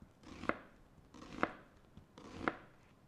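A knife slices an onion in half from pole to pole on a cutting board, with three evenly spaced strokes, each a brief rasp ending in a crisp thunk, quiet and close.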